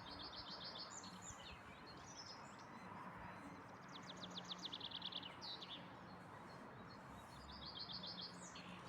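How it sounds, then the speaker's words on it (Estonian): Small birds sing loudly nearby in repeated bursts of rapid chirps and trills, several quick phrases over a constant background hiss. "Väiksed linnud laulavad nagu jõhkralt tugevasti."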